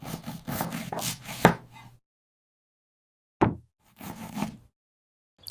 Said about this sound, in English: I'm cutting the bread into slices.